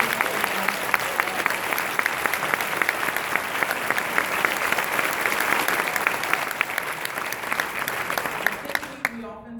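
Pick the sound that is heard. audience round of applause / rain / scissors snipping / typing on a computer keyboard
audience round of applause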